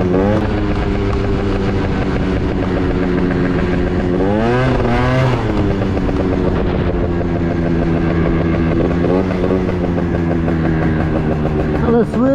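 An Italjet Dragster 180cc scooter engine runs loud and close at speed, with a buzzing tone that rises and falls as the throttle changes, and a voice talks over it.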